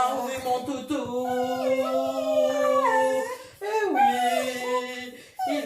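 A pet dog howls and whimpers close by in long, wavering, sliding cries, pausing briefly midway and then starting up again.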